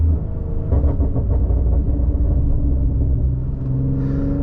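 A tuned 2015 Infiniti Q50 with a 3.7L engine and test pipes accelerates, a deep steady exhaust rumble heard from inside the car, loud and continuous with a slight rise in tone, no voices present.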